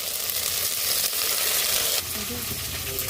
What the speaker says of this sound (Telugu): అల్లం వెల్లుల్లి పేస్ట్ వేసుకొని బాగా ఫ్రై చేసుకోవాలి